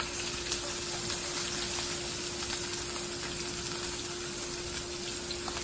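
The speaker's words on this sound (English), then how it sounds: "we're going to saute some onions" Half a medium onion sautés in hot oil, giving off a faint, steady, even sizzle with a soft crackling texture and no speech over it.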